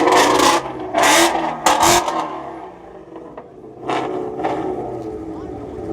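Supercharged Ford Mustang GT350R with a Whipple blower and full carbon fiber body revving at a local car meet: several sharp, loud engine blips in quick succession, with people talking nearby.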